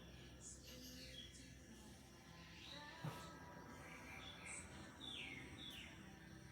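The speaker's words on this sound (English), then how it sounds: "Listen to the bird song out here this morning." Birds sing and chirp at a distance, several calls overlapping over a quiet outdoor background with a brief soft knock.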